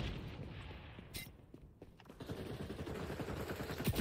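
Rapid gunfire from a first-person shooter video game, with bursts of shots and dense crackling action sounds that grow louder toward the end.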